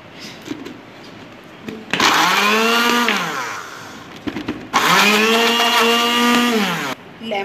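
A blender purees four peeled peaches for jam in two loud bursts, each whirring motor rising and then slowing in pitch, with short pauses and handling between them.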